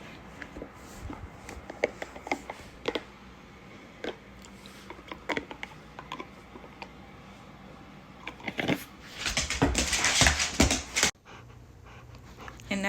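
A dog pants and breathes close by, with brief whimpering whines, chewing-like mouth noises, and a louder scuffling burst near the end; faint background noise runs throughout.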